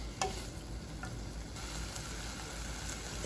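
Oysters and frozen clams being stir-fried in a pan give a steady, moderate sizzle, broken by a few sharp utensil clicks near the start, with no voices.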